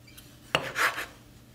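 A knife slicing through very ripe tomatoes, one sharp cut followed by a brief scraping draw of the blade, close and clear in a quiet kitchen.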